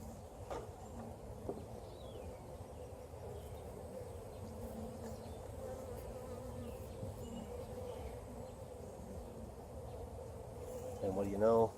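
Agitated honeybees defending an open hive during a suitless inspection of brood frames, a continuous faint buzzing swarm with individual bees passing closer and louder near the end.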